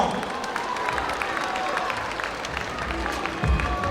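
A crowd at a fight championship event applauds and cheers the contestants after a three-round bout, with continuous clapping and crowd noise and a low thump near the end.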